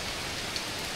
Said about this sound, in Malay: hujan turun lebat tiba-tiba